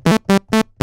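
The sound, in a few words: Minimoog mono synth bass patch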